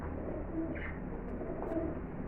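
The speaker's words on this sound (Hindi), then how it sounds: "अब ये 3 कबूतर बाहर निकल के उड़ जाएंगे।" Soft pigeon coos and a faint flutter over a steady low rumble of background noise, fairly quiet and close.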